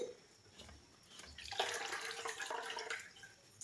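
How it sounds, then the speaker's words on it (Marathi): Running water splashes and trickles steadily, growing louder midway as paneer is rinsed under a flowing tap, close by. "हे चांगल्या स्वच्छ पाण्याने धुवून घेते"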